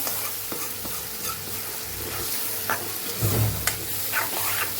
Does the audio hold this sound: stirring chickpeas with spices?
yes